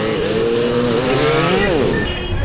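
Honda Dream 110 motorcycle being ridden, its engine droning loudly up close and rising in pitch as it accelerates, with a brief drop and shift of tone near the end.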